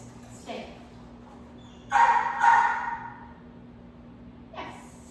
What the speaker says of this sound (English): we're going to be working on adding duration for her growling